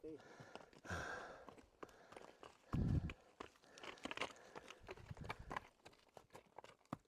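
A horse's hooves clip-clop along a mountain trail on a winter trek toward Everest Base Camp, a loose, uneven patter of steps mixed with a heavy thump and light voices nearby.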